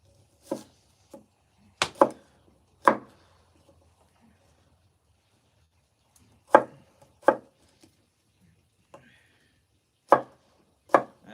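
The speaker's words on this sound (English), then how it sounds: "let's get us another potato cut up" Potatoes being chopped with a knife on a cutting board, sharp distinct knocks in small clusters of two or three, separated by quiet gaps, close and alone without talk.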